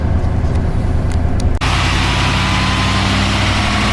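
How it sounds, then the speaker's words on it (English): A Darley tactical pumper fire truck's heavy diesel engine runs steadily and loudly up close during exhaust filter cleaning, its rumble shifting to a harsher, fuller roar partway through. "the exhaust filter is going through the cleaning process. It will get quite loud"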